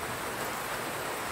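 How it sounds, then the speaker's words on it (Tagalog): Steady rain falls without pause, a dense even hiss that fills the short stretch, with no voices or other sounds over it. "umuulan dito sa amin."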